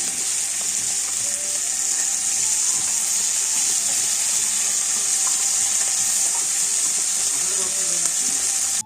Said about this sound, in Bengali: প্রথমে এই যে রসুন কালো জিরে একটু সুন্দর করে ভেজে নিলাম